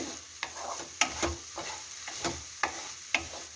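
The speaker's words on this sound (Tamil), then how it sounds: "இதை வந்து நல்லா ஸ்க்ரம்பிள் எக் மாதிரி பண்ணிக்கணும். நல்லா லோ ஃப்ளேமில் போட்டுருங்க." Scrambled egg stirred in a pan over a low flame, with a soft steady sizzle beneath repeated scraping strokes of a utensil, about one every half second, close and quiet with no talking.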